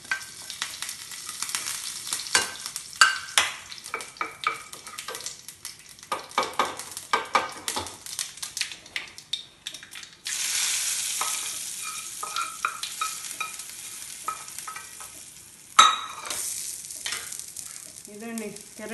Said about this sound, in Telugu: ఆవాలు చిట్టపట్టండి ఇంకా